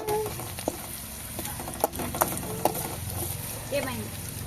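Curry frying in a pan at a home kitchen, a steady sizzle with occasional stirring clinks and scrapes, while background voices chatter throughout.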